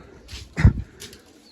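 Pigeons make a few short, close sounds with a soft flutter in a brief spell, with no talking.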